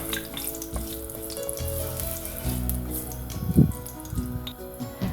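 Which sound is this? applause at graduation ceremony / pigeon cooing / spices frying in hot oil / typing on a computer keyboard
spices frying in hot oil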